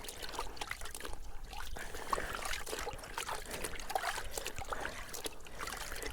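Water trickling and splashing as fur is rinsed clean of the last bits of dirt by hand, a steady close wet dribbling with intermittent small splashes throughout, no talking.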